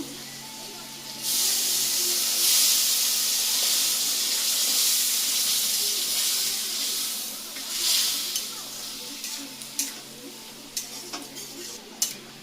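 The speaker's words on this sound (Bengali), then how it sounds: "অল্প একটু জল দিয়ে দেবো একটু সিদ্ধ হওয়ার জন্য।" Water is poured into a fish curry cooking in a pan on a village stove, setting off a loud, close, sustained hissing sizzle that slowly eases into softer bubbling with a few sharp utensil taps near the end.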